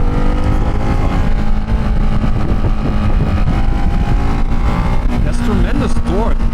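Ducati Hypermotard 698 motorcycle pulling hard in third gear through the mid-range, a loud, continuous engine roar buffeted by wind noise, with the pitch sweeping up and down near the end.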